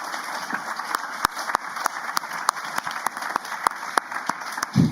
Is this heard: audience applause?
yes